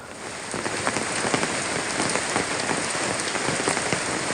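Heavy monsoon rain in Vadakara, Kozhikode, Kerala, a dense, steady roar of drops pattering on surfaces, constant and close throughout.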